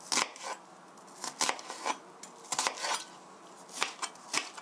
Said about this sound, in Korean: 양파 반 개는 이렇게 칼집을 내셔서